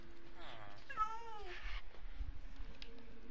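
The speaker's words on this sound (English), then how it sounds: "Now I have three cats." A house cat lets out a couple of faint meows, one of them drawn out, under a person's speech in a quiet room.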